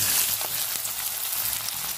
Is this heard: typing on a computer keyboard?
no